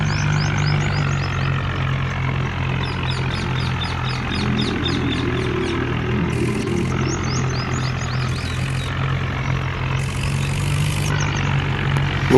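A tractor idles in a farm setting, a loud steady low diesel rumble that holds without pause, with chirping birds faintly above it and no one speaking.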